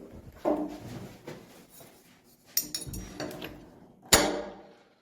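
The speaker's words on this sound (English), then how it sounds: "so we've got our cylinder, our backing plate and the screws, and we're just going to pop it all together" A door lock cylinder, backing plate and screws are fitted together by hand, producing a sparse run of close metallic clicks, taps and clinks, with one sharp louder knock near the end and quiet handling noise between.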